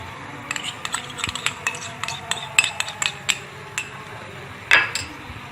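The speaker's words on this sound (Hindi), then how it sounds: "इस तरह से मिक्स कर लिया" A spoon stirs fried chicken marinade with ketchup and sauce in a bowl, giving scattered light clinks and scrapes at an uneven rhythm with one sharper clink near the end.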